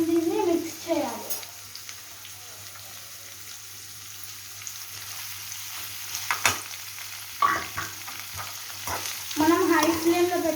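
Chicken fry with chopped green chillies stirred over a high flame, sizzling under bursts of scraping and stirring, with voices briefly at the start and end.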